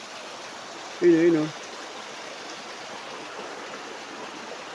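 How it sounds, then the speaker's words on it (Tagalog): A strong river current flows in a steady broadband rush, moderately loud and constant, with a short voice breaking in near the start. "Lakas ng agos"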